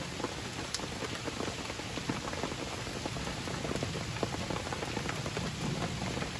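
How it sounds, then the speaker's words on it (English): Rain falling steadily on surfaces outdoors, a dense continuous patter with scattered sharper drops, close and even throughout with no voices. "Just like that, I'm not scared of the rain."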